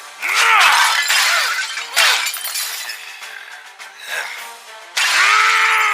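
Repeated loud shattering crashes of skeletons being smashed in an anime fight scene, several bursts spaced across the clip like breaking glass or brittle bone, with music or ambience between hits.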